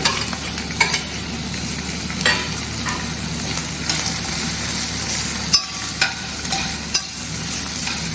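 Capsicum and zucchini sizzle steadily in a hot pan, a dense continuous frying hiss broken by occasional scraping stirs and light utensil clinks, close and loud with no talk.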